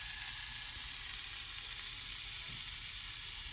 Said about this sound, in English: I'm going to cook 2 slices of bacon